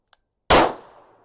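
A single sharp rifle shot at an outdoor range, loud and close, its crack decaying quickly into a short fading echo after a faint tick.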